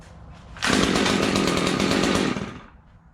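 A Stihl MS201TC top-handle arborist chainsaw, freshly cleaned, revs up loud and close for under two seconds before dropping back toward idle.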